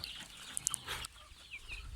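Chickens cluck and chirp softly at a distance, a few brief calls over a faint farmyard background.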